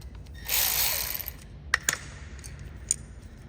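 A ratchet tightens the front brake caliper bolts on a Ford Transit 250/350 during a pad replacement. A short burst of rapid clicking is followed by a few sharp, close metallic ticks.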